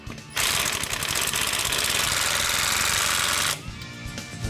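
Pneumatic impact wrench runs lug nuts onto the wheel of a 1969 Super Bee, giving about three seconds of loud, continuous rattling buzz, with quieter workshop noise before and after.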